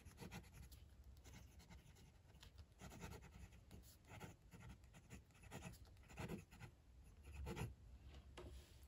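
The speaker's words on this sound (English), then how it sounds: "Let's just do another bit of writing for you." Close scratchy rasp of an Ensso Italia fountain pen nib writing on paper with Waterman Serenity Blue ink, steady light friction with slightly louder strokes, no talking.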